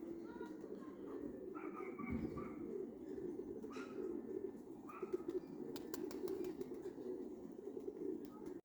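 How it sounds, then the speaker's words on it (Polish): Pigeons coo softly amid a low background hum, with a few brief chirps and faint rustling, fairly quiet and somewhat distant. "jest bardzo dużo gołębi"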